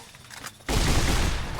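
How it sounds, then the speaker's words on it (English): A riot shotgun in Fallout New Vegas fires one sudden loud close blast, its heavy roar sustained after a brief quieter lead-in. "We're using the freaking riot shotgun."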